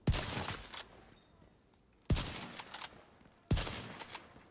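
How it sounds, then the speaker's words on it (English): Gunfire in The Division 2 rings out in three loud, sharp bursts spaced about two seconds apart, each followed by a ragged rattling tail, with faint background noise between volleys. "what is going on with these shots?"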